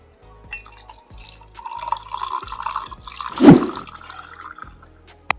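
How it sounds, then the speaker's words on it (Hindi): Fresh pomegranate juice poured into a glass over ice cubes: a soft trickling pour that rises to a brief louder splash partway through, close and fairly quiet, with no talk. "तो अब मैं गिलास में सबसे पहले आइस क्यूब डाल लेता हूँ, 1 2, और डाल देंगे अनार का जूस"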